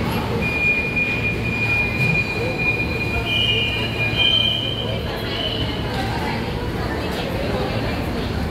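An Ahmedabad metro train's wheels squeal in a long, thin, steady tone on the rails near Old High Court station, under continuous rumble and faint chatter on board.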